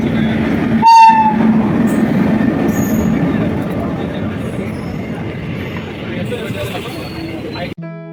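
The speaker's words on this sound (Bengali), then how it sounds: "সকালের ঠান্ডা আমেজে আমাদের ট্রেন ছুটে চলেছে রামপুরহাটের দিকে" Crowded passenger train running toward Rampurhat on a cold morning, heard from inside: a loud, steady rumble and clatter with one horn blast early on and crowd babble underneath.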